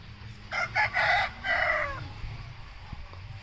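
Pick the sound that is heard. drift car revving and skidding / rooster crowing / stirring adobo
rooster crowing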